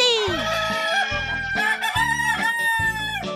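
A cheerful hen in a children's farm story clucks with rooster-like crowing calls, several bright harmonic cries in quick succession over a steady bed of repeated low clucks, loud and close with no talking.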